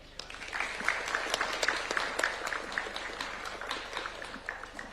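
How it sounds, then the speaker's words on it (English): Steady applause from a crowd at the Kenyan State House in Nairobi, many hands clapping continuously at moderate volume throughout, with no pauses. "Another round of applause for Mr. Kuria Mushiri."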